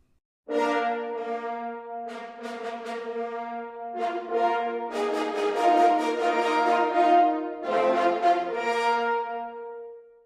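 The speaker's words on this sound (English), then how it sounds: "the horns together sound something like this" A French horn section plays together in sustained, rich harmonized notes, several phrases with short breaks between them, clear and close.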